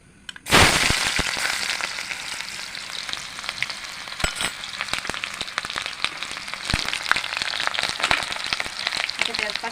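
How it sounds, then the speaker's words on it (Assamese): Onions sizzling loudly in hot oil in a pan while a jackfruit curry is cooked, with a sharp crackling burst as they drop in, then steady close-up frying with scattered pops. "তাৰপিছত ইয়াতে মই পিঁয়াজ দিছোঁ"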